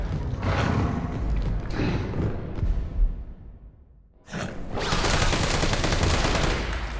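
Assault rifle fire with acid rounds in Resident Evil 3 (2020): dense, loud bursts of gunfire fill the opening seconds, die away briefly into a fading tail, then a sustained roar of shooting and impacts returns until the end.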